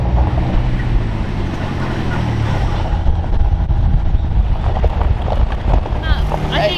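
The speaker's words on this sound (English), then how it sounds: "it's pretty bumpy in the back of this 4x4 on the way to Lanquin" A 4x4 driving a bumpy road toward Lanquin, Guatemala, giving a steady loud engine and road rumble with rattling jolts and wind buffeting throughout.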